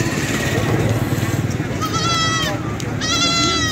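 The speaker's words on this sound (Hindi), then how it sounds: "बच्चे वाली बकरी है" A goat with two kids, one of several dairy goats at a Faisalabad goat market, gives a few high wavering bleats over someone talking loudly nearby.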